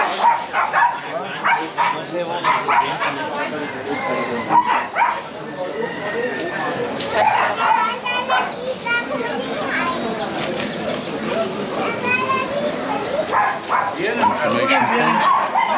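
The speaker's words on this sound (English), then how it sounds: "Here we just got some dogs on display," Dogs on display at the Sineu Wednesday market in Mallorca bark, yip and whimper repeatedly amid a busy outdoor crowd, with children playing and people talking throughout.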